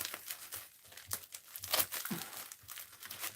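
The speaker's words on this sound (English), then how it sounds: "Save the bubble wrap." Bubble wrap being handled and crinkled up close, soft irregular crackles and rustles with a few sharper crunches, quiet and without speech.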